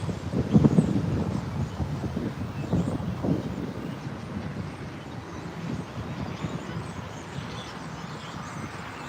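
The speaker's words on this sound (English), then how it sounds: "It's so windy." Blustery wind buffets the microphone with low rumbling gusts, strongest early on, then settling into a steady roar.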